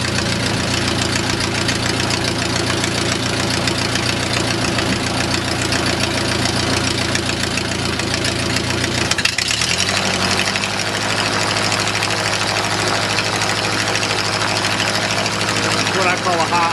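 A Smoot 4a084 aircraft engine runs with a steady, loud rhythmic drone, then shifts abruptly partway through as its speed jumps toward a high idle of about 1800 RPM, settling into a smoother, sustained tone afterward.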